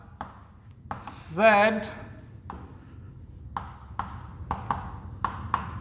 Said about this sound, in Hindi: जैसे मैं एक सेंटेंस लिखता हूँ